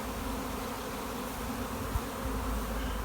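A honey bee swarm buzzing steadily and densely, a continuous close drone that fills the whole stretch without pause.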